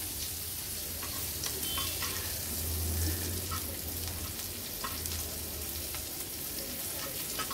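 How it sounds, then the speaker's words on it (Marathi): Dried Bombay duck (bombil) fries in a little oil over a low-to-medium flame while being turned over and over, giving a steady close sizzle with faint clicks and light scrapes throughout. "लो टू मीडियम फ्लेम वर हे उलटपालट करून आपण तळून घेणार आहोत"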